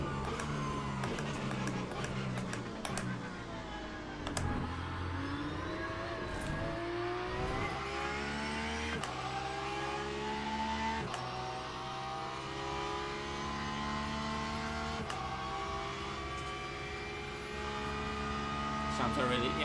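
Racing car engines in Le Mans Ultimate, including BMW and Porsche machines, rev and drone steadily through gear changes, with several sharp shifts and engine notes rising and falling over about twenty seconds of continuous motorsport sound.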